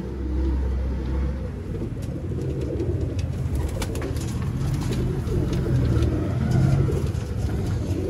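Sialkoti pigeons coo softly in a loft over a constant low rumble of passing traffic, their calls faint and intermittent for several seconds.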